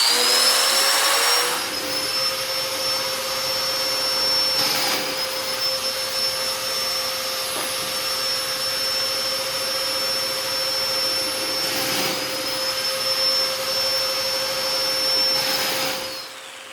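Domino joiner cutting wood in a woodshop, a steady high motor whine with dust-extraction roar running continuously for about seventeen seconds, with a few brief louder surges during the plunges.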